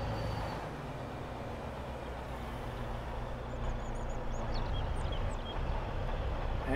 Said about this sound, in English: All right, this is our last truck coming in.